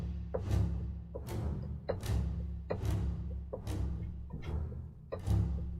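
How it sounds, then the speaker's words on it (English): Bartok pizzicato on a bowed string instrument, sharp snapping plucks with the string slapping back against the fingerboard, about seven evenly spaced percussive hits ringing over a steady low sustained tone. "there's something called a Bartok pizz, like a pizzicato."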